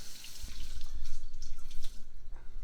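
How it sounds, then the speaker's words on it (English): Hot tap water runs into a kitchen sink to wet a dish towel, a close splashing gush with irregular spatters and drips, fairly loud and without talking. "I'm going to wet it with some hot water"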